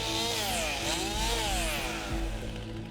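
A chainsaw worked by a wildfire crew in the woods of eastern Oregon runs loud and close, its engine whine rising and falling as it revs and cuts steadily throughout.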